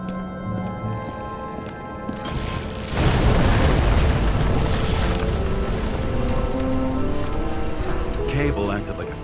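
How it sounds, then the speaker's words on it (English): In a video game, a flooded, burning transformer explodes with a heavy boom. A sustained roaring, crackling rumble follows, loud and close, over a low droning background. "Cable acted like a fuse. That's what caused the explosion."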